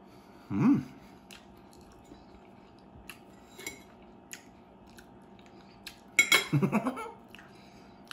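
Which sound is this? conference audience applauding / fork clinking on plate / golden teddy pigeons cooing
fork clinking on plate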